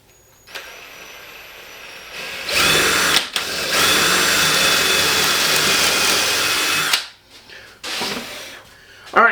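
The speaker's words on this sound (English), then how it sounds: "we're going to drill into that in the middle there." A power drill bores into the middle of a 2x4 wood piece, a short burst and then a long, steady, loud whirring run that stops abruptly, followed by a few brief quieter spins.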